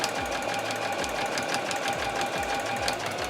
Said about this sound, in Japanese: 続けてステッチの方を入れました